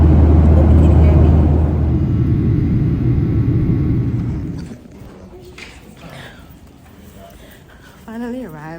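Airplane cabin noise on a bumpy flight during a snowstorm: a loud, steady roar fills the first half, then drops to a quieter hum with faint voices and rustling near the end.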